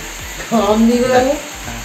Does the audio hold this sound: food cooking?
yes